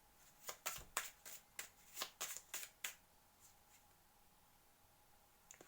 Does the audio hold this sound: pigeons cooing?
no